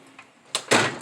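A metal drawer of a Husky toolbox slides in a garage, two quick rolling scrapes in succession, the second louder and longer, with no talk over them.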